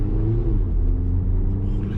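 A car's engine pulls hard as it accelerates past buses on the road, a steady loud rumble with a whirring edge that holds throughout, close and with no talking.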